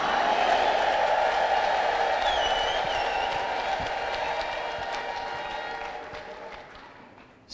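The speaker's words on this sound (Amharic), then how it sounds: "እልልታ ለጌታ" Church congregation praising the Lord, with loud clapping and ululating cheers that swell at the start, then slowly thin out and fade over several seconds.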